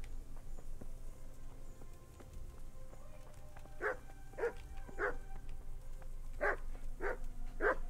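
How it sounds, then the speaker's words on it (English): A dog barks in the video game Kingdom Come Deliverance, six short barks in two groups of three over low ambient background noise, moderately loud. "Why is this dog barking at me?"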